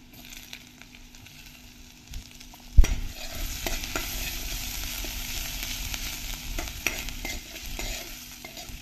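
Ginger frying in butter for a bean soup, heard first as a quiet hiss, then a sharp clatter as it drops in, followed by a fuller, steady sizzle with stirring scrapes and scattered pops.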